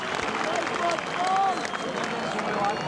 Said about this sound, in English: A great roar of applause for Carl Furbank.